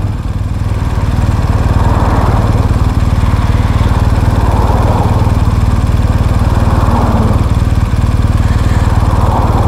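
A BMW R 1250 GS boxer motorcycle engine runs steadily at close range, a loud, constant low throb with a fast even pulse and no voices, holding a consistent idle-like tone throughout.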